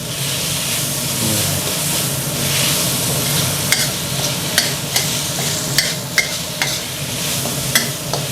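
Minced pork and holy basil leaves stir-fried in a hot pan, a loud continuous sizzle with a run of sharp scraping clacks from the spatula toward the end.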